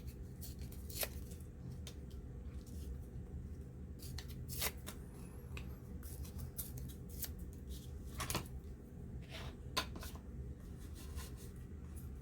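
Paper is torn from an antique cook book, heard as soft crinkling and rustling with several sharp ripping bursts scattered over a low background hum, close and quiet.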